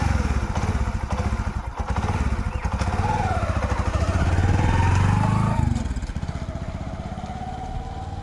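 A motorbike engine runs steadily throughout while being ridden, a loud close pulsing drone that rises in pitch midway as it speeds up, then eases back slightly.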